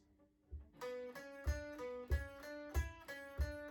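Guitar riff plays as a steady sequence of plucked notes over a low thumping beat, each attack ringing briefly, clean and alone with no voices.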